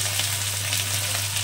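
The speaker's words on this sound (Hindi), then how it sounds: "अब इसको हम डाल देते हैं इसमें और इसको हम अच्छे से चला देंगे, मिक्स कर लेंगे अच्छे से तेल में" Shelled green peas sizzling and frying in hot oil in a pan, a dense, steady crackling hiss heard close up throughout, with a low hum beneath and no talking.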